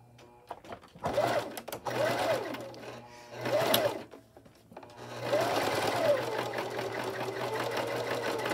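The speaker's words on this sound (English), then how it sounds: "I'm going to lock this stitching in." A sewing machine stitches a sleeve on an 18-inch doll dress in three running bursts separated by short pauses, its fast whirring hum steady and close, the last run going longest.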